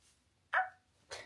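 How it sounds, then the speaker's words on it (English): Two short dog barks, a sharp one followed by a fainter second about half a second later, fairly distant and alone in a quiet room. "No, that's a dog. That's not a cat."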